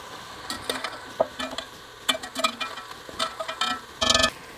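Beef browning in a hot frying pan sizzles in short bursts as it is scraped and lifted out, with intermittent stirring clatter close by.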